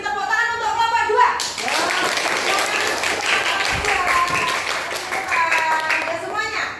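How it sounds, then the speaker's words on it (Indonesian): Elementary school class applauds a student group, many children's hands clapping steadily at close range, mixed with kids' voices and chatter throughout. "kita beri tepuk tangan untuk kelompok 2"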